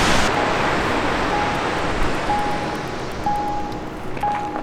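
A powerful waterfall in Iceland roars as a continuous, dense rush of water, loud and unbroken, with a faint repeating tone sounding over it and no one speaking.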